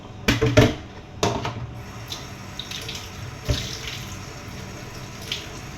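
Tap water runs over a stingray fish being washed in a sink, a steady close stream broken by a few sharp splashes and clatters near the start and middle.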